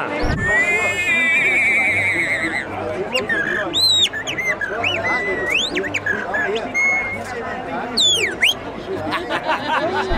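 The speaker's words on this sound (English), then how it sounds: "It's a bird whistle." Toy bird whistle blown repeatedly at the Munich Oktoberfest, bright warbling chirps and swooping trills rising over loud crowd chatter and festival hubbub.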